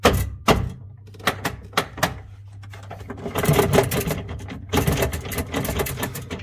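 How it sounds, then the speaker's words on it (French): Relays clack inside a faulty Chaffoteaux & Maury Nexia gas boiler: several sharp, separate mechanical clicks, then a denser run of rattling clicks and thuds, close and fairly loud. "Vous entendez clac, clac, clac. Pour moi, c'est les relais qui bougent dedans."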